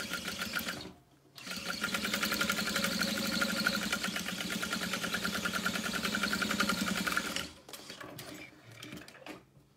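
A sewing machine runs steadily while stitching around the outside edge of a leather pouch with piping, a loud continuous rapid whir that starts after a brief pause and stops near the end.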